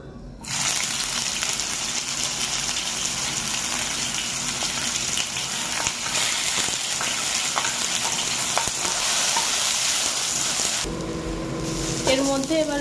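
Ginger, green chili and cumin paste sizzles and spits steadily in hot oil in a pan, with stirring scrapes running throughout; near and loud, and the frying cuts off abruptly near the end as something else begins.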